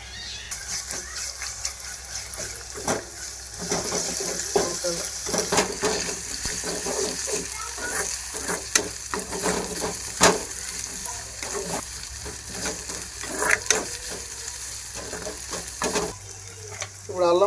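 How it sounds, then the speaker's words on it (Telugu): Ginger-garlic paste frying with browned onions in a pan gives a loud, continuous sizzle broken by repeated scraping stirs and spoon knocks. "ఇప్పుడు అల్లం తల్లులు వేసుకుంటాం దీంట్లో."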